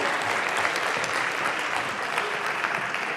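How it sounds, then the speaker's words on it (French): A conference audience at a patronage forum applauds steadily, a continuous even wash of many hands clapping at moderate volume, without speech. "On peut vous applaudir, évidemment."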